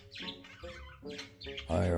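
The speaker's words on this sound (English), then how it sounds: "Just chirping." A pet budgie chirps in short bursts of bright, harmonic calls, fairly close, with a louder sustained squawk-like call at the end and a voice sounding alongside.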